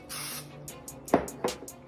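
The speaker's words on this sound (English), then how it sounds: "I wanna spray mine just to make sure that it does not stick" Cooking spray from an aerosol can misted onto a stand mixer's dough hook before making beignet dough, a long hiss followed by two short sharp bursts, close and fairly quiet.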